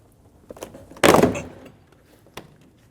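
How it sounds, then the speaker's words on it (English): A door panel on a Scion car is pulled so its clips pop free, giving one loud, close, scraping burst with a couple of small clicks before and after. "You can use a trim tool and get in between the two and pop the clips, or just give it a nice swift pull straight out"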